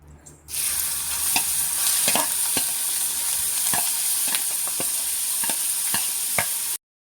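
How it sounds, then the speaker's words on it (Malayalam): Clams sizzle in hot oil in a pan, a bright continuous frying hiss punctuated by regular scraping stirs of a spatula, close and loud. "കക്ക നമുക്കൊന്ന് വഴറ്റിയെടുക്കാം."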